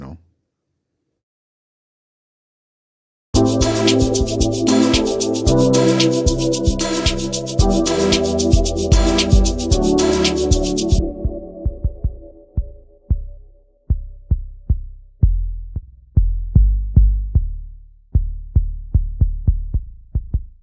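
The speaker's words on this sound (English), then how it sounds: "just to layer the log drum, I added a FM sub, just to give it more of the sub frequencies" An amapiano log drum layered with an FM sub bass plays after a few seconds of silence, first inside a dense full beat, then alone as punchy, deep, syncopated thumps with short decays.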